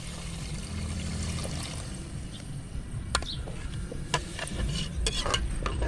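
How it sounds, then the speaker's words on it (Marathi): Rice and moong dal in a pot on a wood-fired clay stove, water gurgling in as the mix is stirred, with a low steady bubbling and sharp clinks of a spoon against the pot. "आता इथं तांदळाच्या दुप्पट पाणी याच्यामध्ये टाकायचे"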